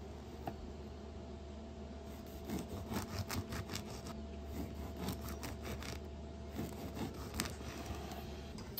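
Slices being cut from a loaf of three cheese semolina bread, a steady rhythmic sawing and scraping of the knife through crust, close and fairly quiet, with no talking.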